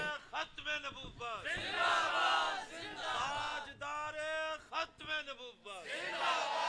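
A crowd at a religious Khatm-e-Nabuwat movement gathering chants slogans in unison, loud, dense voices rising and falling in repeated waves with brief pauses between shouts.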